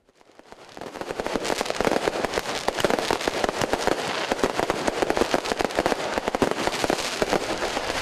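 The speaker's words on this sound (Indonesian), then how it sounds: "Ribuan kembang api meriahkan malam pergantian tahun di lapangan Puputan Badung, Denpasar" Dense New Year's Eve fireworks crackle and pop in rapid bursts over Puputan Badung square in Denpasar, Bali, building quickly and continuing loudly without pause.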